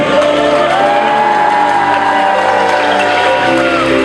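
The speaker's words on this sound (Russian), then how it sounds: "Громче аплодисменты!" Audience in a theatre hall after a children's dance school concert, loud and sustained cheering, shouting and whooping over applause, with a voice speaking over the crowd throughout.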